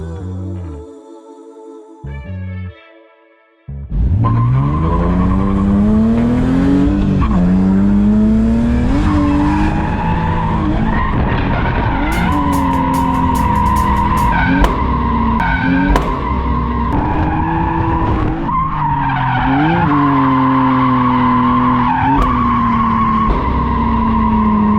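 A BMW E46 wagon drifting on track, engine roaring loud and steady at high revs with long, wavering tire squeals rising and falling through the turns, after a brief quieter start.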